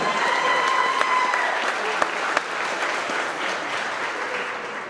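A crowd claps and cheers steadily, the applause loud at first and easing off slightly toward the end, with a couple of sharper claps standing out.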